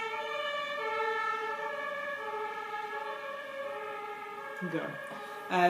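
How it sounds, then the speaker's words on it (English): An ambulance siren wails steadily with a rising and falling tone, holding fairly loud and moving past, with a brief rumble of traffic near the end. "there's like an ambulance going past"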